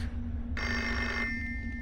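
Telephone ringing in the RPG Maker horror game Agoraphobia, a single short electronic ring burst over a low steady hum, alone without talk.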